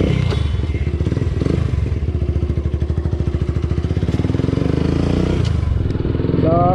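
A modified Suzuki Gixxer SF motorcycle exhaust throbs loud and close on a test ride, a continuous mid-range engine rumble with the rhythmic pulse of the firing beats and some clatter.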